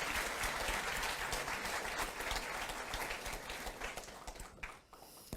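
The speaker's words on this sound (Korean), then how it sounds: "옆자리 우리 식구들에게 박수 한번 크게 보내주시기 바랍니다" Broad audience applause at a ministerial swearing-in and inauguration ceremony, loud and continuous at first, then thinning out and tapering off near the end.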